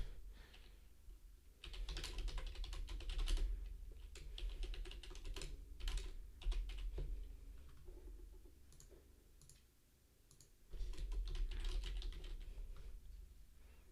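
Typing on a computer keyboard while taking notes during an online 5NL poker session: steady bursts of close, crisp key clicks that pause briefly around the middle and then resume, heard alone without talk.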